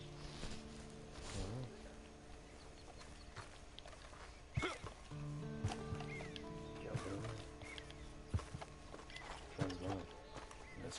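Horse hooves clip-clop at a walking pace in the Western video game Red Dead Redemption Online, irregular moderate steps mixed with voices talking and game ambience throughout.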